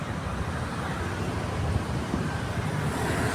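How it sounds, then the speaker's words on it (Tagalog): Road traffic hums steadily on a street in Kapitolyo, Pasig, a dense, even wash of engine and tire noise with no single vehicle standing out. "Dahil medyo traffic na ngayong Tuesday."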